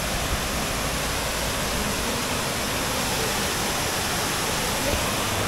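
Water pouring over a small dam at a waterfall beside a resort, a dense, constant roar heard up close without pause.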